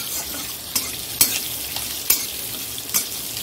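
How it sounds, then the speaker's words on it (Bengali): Nigella seeds dry-roasting with garlic and dried chillies in a dry pan, a steady soft crackling hiss broken by a few sharp scraping stirs against the metal, with no voices. "কালো জিরে ভেজে নিচ্ছি"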